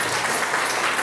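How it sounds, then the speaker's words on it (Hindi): A seminar audience in Bhagalpur, Bihar, gives a loud, dense burst of clapping that fills the hall continuously. "मैं चाहता हूं उनके लिए एक जोरदार ताली बजाएं"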